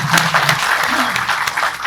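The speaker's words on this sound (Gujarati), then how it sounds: "કાપુરે સાહેબ માટે જોરદાર તાળીઓ થઈ જાય" An audience at a journalism school event claps loudly for a teacher, dense applause filling the short moment without a break.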